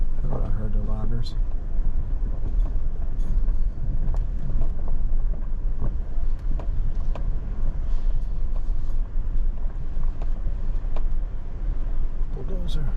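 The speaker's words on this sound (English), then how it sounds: "Bulldozer." A bulldozer working in a logging area, heard as a constant low rumble mixed with wind buffeting the microphone, with faint clanks now and then throughout.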